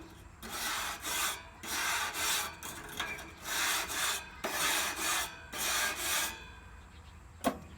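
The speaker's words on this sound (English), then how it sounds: "I have a cleaning stone here for the grill" A cleaning stone scrubbed across a steak grill in repeated rough strokes, about a dozen rasping passes in steady rhythm, close and fairly loud, ending with a single sharp knock.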